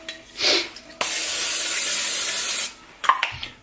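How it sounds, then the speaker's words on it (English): A single burst of cooking spray onto a pan hisses for about a second and a half, close by, bracketed by faint handling noises. "So I always spray my pan first."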